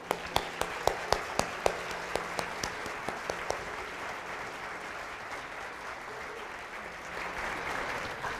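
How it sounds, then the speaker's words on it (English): A crowd gives applause for students and parents at a Martin Luther King Jr. birthday celebration, a steady, fairly quiet spread of clapping led by several sharp, close individual claps that fade into a continuous wash. "I think we owe them one more round of applause."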